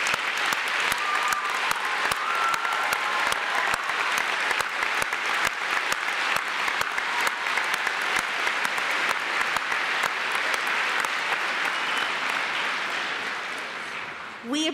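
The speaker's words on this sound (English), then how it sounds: "join me in a round of applause for those who serve our country" A large graduation crowd applauds for veterans in a long, sustained wave of clapping that stays fairly loud and even throughout, tapering slightly near the end.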